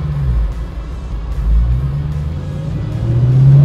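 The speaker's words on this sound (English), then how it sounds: "Oh, there she goes." A 1964 1/2 Ford Mustang pulls away from a stop sign, its engine rumbling loudly up close, then rising in pitch as it accelerates hard toward the end.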